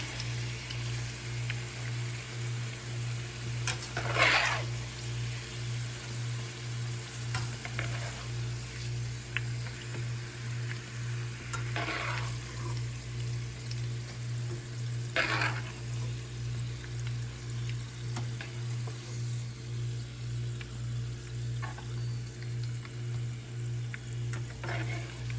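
Fries bubble in hot oil in a pot, a soft continuous sizzle under a steady electrical hum, broken by a few brief louder crackles and stirring scrapes.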